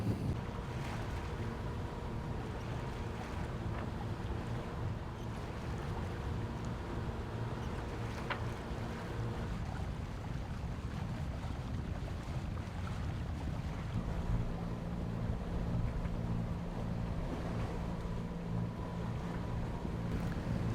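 A sailboat motoring under engine across a flat, windless sea between Turkey and Greece, a steady low engine drone with wind rushing over the microphone throughout, no voices.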